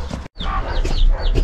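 Two baby chicks peeping in a camper, high thin cheeps in quick bursts close by, over a soft background murmur.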